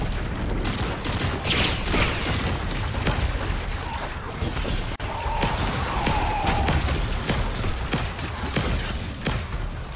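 Rapid automatic gunfire and explosions during a Destiny 2 dungeon fight, loud dense bursts running continuously with battle effects underneath.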